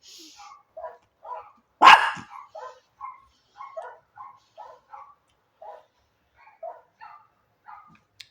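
Small dogs yap and bark repeatedly in short bursts, moderately close, with one louder sharp sound early on; no talking.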